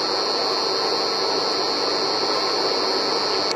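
A constant high-pitched electrical whine from an induction stove over a broad noisy hiss, steady and unchanging, close to the listener with no talking.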